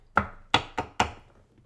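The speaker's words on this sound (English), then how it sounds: "let's hope I chop these up small enough for the blender" Food is chopped on a cutting board for the blender: four sharp, close knife strikes in quick succession, each a crisp thud with a short decay.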